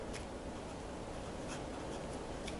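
Pen or pencil writing by hand on paper, a steady soft scratching with faint rhythmic strokes, close and alone.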